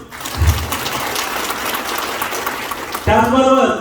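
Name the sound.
audience applause at a meeting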